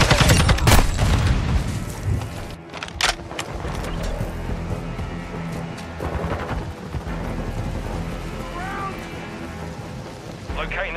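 Stun grenade blast during Hardpoint combat on Pelaya's Lighthouse in Modern Warfare 2, a heavy boom within dense gunfire and impacts, loud and close, with voices talking over the chaos.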